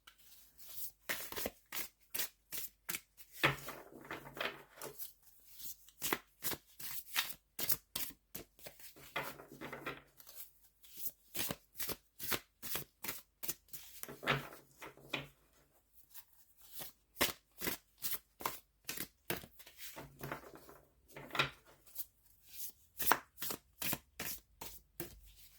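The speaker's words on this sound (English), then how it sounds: "So like maybe after the shuffle, I'll cut the deck" Repeated bursts of tarot cards being riffled and bridged, crisp rapid flutters separated by short pauses, close and fairly quiet, no voices.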